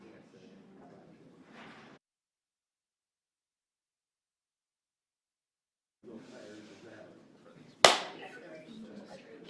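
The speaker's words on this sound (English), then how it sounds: "I have to do a clap test" A single sharp hand clap for a clap test in a courtroom setting, a loud crisp smack that cuts in between stretches of people talking nearby.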